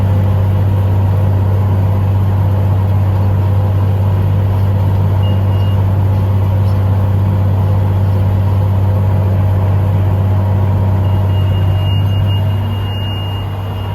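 Tractor baling straw in a field at about seven miles an hour, its engine a loud, steady low drone throughout, with faint mechanical knocks of the baler over the top.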